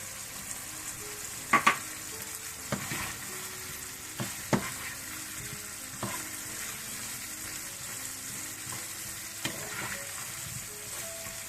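Potatoes with black pepper frying in a pan, a continuous close sizzle broken by scattered scrapes and taps from stirring, with no talking.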